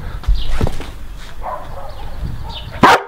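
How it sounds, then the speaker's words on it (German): An excited dog greeting a visitor at home, giving a few sharp barks and high whimpering yips over a quiet room, ending in a louder bark. "weil jetzt dreht der Hund nämlich erstmal durch, weil er dich zu lange nicht gesehen hat."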